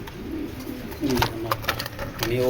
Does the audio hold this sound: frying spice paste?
no